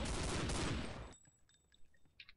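Machine gun in a game set in urban ruins, rattling in a dense, loud rapid burst for about a second, then cutting off into a quiet tail with a few faint tones and clicks.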